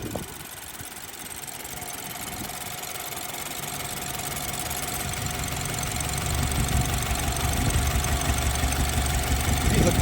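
The engine of a BMW F30 328i idles steadily nearby, a continuous low rumble with a faint knocking texture that grows slightly louder toward the end, with no talking.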